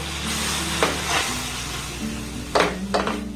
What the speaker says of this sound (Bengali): এবার এখানে আমি লিকুইড দুধ দিয়ে দেব